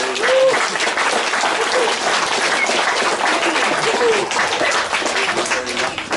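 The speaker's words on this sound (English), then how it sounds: "Round of applause, everybody." Guests clap and cheer for a newly married couple right after the declaration, a dense, lively round of applause with a few voices calling out over it, staying loud throughout.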